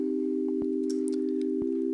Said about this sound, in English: That's the sound of the major